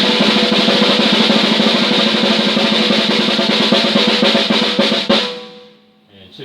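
An unmuffled Ludwig Epic kit with Paiste 602 cymbals, its bass drum, snare and toms all tuned high, plays a busy continuous groove under a wash of cymbals. The kit stops abruptly near the end and leaves a fading ring.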